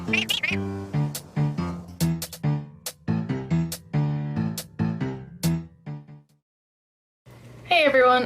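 Cats meow repeatedly in the cozy tea-house video game Pico, a string of short, bright, cartoonish meows in quick succession, followed by a brief silence and a louder drawn-out meow at the end.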